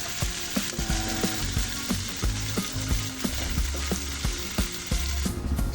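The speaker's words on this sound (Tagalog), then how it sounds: "So ito na yung pinirito natin na dalag." Dalag fish frying in a pan of hot oil, a loud, dense sizzle with constant crackling and popping, close up and steady throughout.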